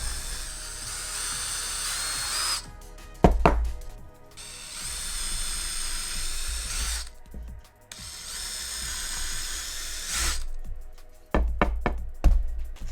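A power drill boring holes into leftover scrap material, in long whining bursts broken by sharp knocks and clunks of handling between them, close by and with no talking.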